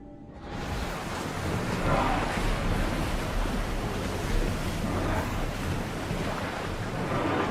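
A sailing ship crosses open sea in Assassin's Creed Odyssey, with steady loud waves surging against the hull and constant wind rushing throughout, unbroken and without speech.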